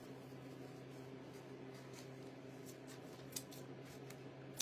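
Scissors snip several times in quick, faint cuts over a steady hum of a room appliance, close by, with no talk.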